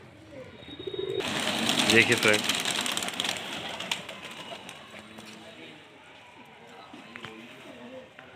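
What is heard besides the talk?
domestic pigeons cooing, Madrasi and desi breeds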